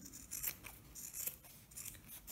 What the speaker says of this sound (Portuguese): Agora, a gente corta todos os excessos